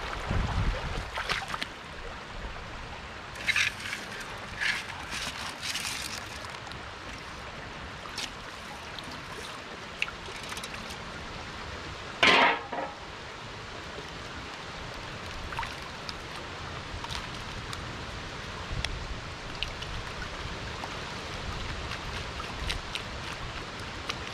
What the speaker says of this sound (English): We're gonna pull this out right now and dump it in a pan.